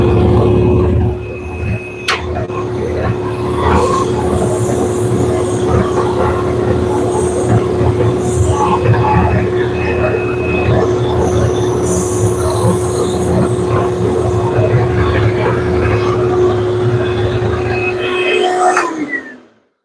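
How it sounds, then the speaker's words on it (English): A workshop vacuum and a belt sander run together, making a loud, steady roar with a constant whine for about nineteen seconds before both cut off. "I'm going to turn on our vacuum, turn on our disc sander or belt sander, and try and clean off my belt"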